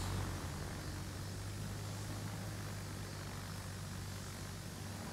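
Rocket-armed support carrier aircraft in World of Warships, a steady propeller-engine drone held at an even level throughout with no talk over it.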